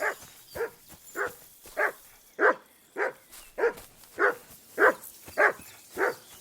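A dog in Kingdom Come Deliverance 2 makes about eleven short, evenly spaced gruff barks at a steady rhythm, close and clear against quiet surroundings.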